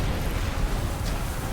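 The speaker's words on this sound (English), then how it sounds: "Next gen explosions!" Catapult-fired explosions in Ryse: Son of Rome, a continuous loud roaring rumble of blasts and debris with no distinct breaks.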